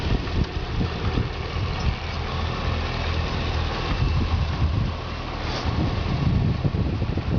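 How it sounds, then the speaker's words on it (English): A repairable salvage 2010 Cadillac CTS-V with its engine idling, a steady low rumble heard up close, mixed with wind buffeting the microphone and no talk. "hear the motor running"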